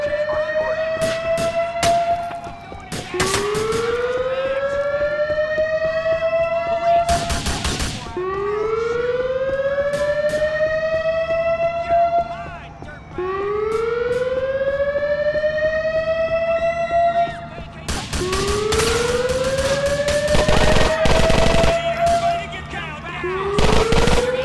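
Scattered bursts of gunfire from a prison break shootout in the video game GTA 4 crack out between long, rising and falling wails of a loud siren. A heavy cluster of shots comes near the end.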